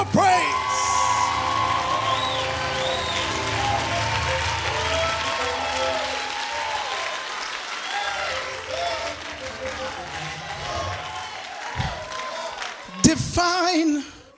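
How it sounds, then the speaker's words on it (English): A church congregation bursts into loud clapping with whoops and shouts, near and sustained, while voices call out over it before the noise fades toward a brief sharp knock at the end. "Give the Lord a hand clap of praise."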